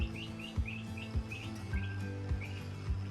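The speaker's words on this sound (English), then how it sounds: "Can you guys hear the birds?" Small birds chirp in short repeated tweets at a moderate distance, over a low rhythmic thumping hum of machinery in the background.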